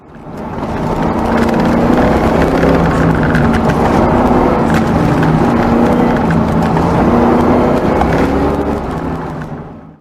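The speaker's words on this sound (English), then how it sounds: "There's just something about the way a Fox body feels and sounds when you're throwing it around" A Ford Fox body Mustang engine roars hard near redline on an autocross course, a loud continuous throaty drone holding steady for several seconds before cutting off.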